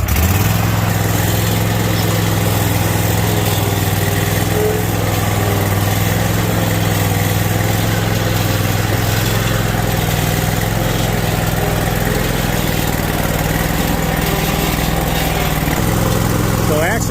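Lawn mower engine running steadily while mowing a home lawn, a loud, close, continuous mid-pitched drone holding throughout with no pauses.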